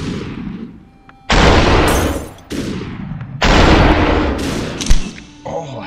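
Gunfire in the video game Superhot, several bursts of loud shots arriving in two long dense volleys with quieter gaps between, a sharp single crack near the end, with a voice talking in the quieter stretches.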